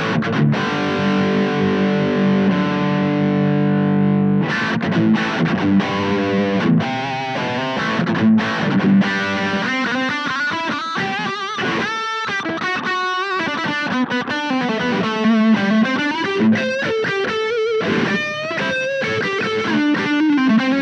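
Electric guitar through a guitar amp with heavy distortion, a sustained chord swelling and then a busy run of fast, dense distorted notes and riffs, loud and continuous with no talking.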